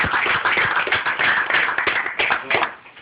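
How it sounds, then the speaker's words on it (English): Audience clapping for a graduate at a celebration, a fairly close and brisk patter of hands lasting a few seconds before tapering off, with some background voices mixed in. "So I'd like to give a round of applause for Nikki"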